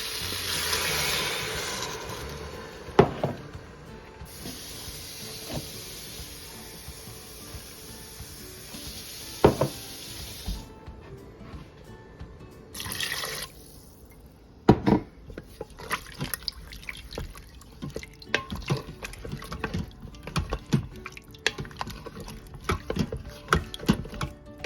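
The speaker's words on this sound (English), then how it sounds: "And I'm gonna add water into this." Water poured from a tap into an Instant Pot of okra stew, a steady close splashing fill running throughout with intermittent drips, clinks and handling knocks, no talking.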